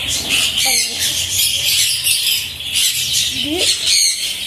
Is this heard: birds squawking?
yes